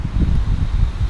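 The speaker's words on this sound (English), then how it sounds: "So we're going to bring in some air pressure here." Compressed air rushing through a Motovox 80cc engine, a close, loud breathy whoosh with low pulsing surges, no talk.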